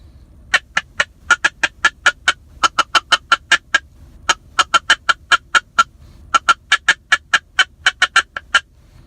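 A feeding mallard hen imitated on a duck call for hunting: quick bursts of short, clipped quacks and chatter in uneven clusters with brief pauses, close and clear, no talking.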